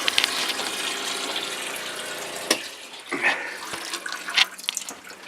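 Water spurts and splutters from a sailboat galley faucet during winterizing, running unevenly with air bursts and sharp clunks as leftover water clears the hoses, close by with no talking.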